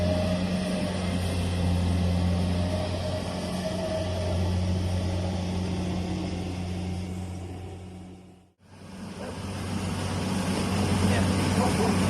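A rice harvesting machine works a field near a power pole, giving a loud, steady engine drone with strong low hum that runs almost throughout, cutting out briefly for a moment before resuming.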